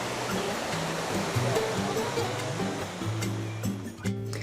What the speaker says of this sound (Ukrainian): випадково відкрили для себе неймовірне місце водоспад Тхалдо